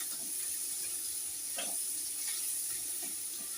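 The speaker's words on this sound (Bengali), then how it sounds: "পেঁয়াজটা কুচানো দিয়ে দিলাম কিছুটা, দিয়ে এবার একটু নাড়বো পেঁয়াজটা ভালো করে।" Chopped onion fries in oil for a spicy fish curry, making a soft, steady sizzle with gentle stirring scrapes, fairly quiet and close, with no voices.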